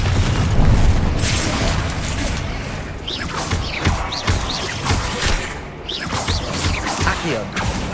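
Confringo fire spell blasts in Hogwarts Legacy: repeated booming explosions and whooshes in quick succession, loud and close, mixed with combat clatter and a voice calling out spells.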